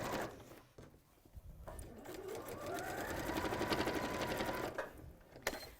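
A sewing machine stitches binding onto a project with a soft, rapid mechanical whir that builds and runs steadily for several seconds before slowing to a stop, quiet and close, with light handling clicks around it.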